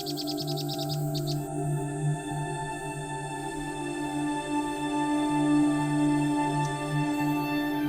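A cuckoo chick in the nest of a vinous-throated parrotbill gives a quick series of high, thin begging chirps at the start, then fades under a steady tonal background.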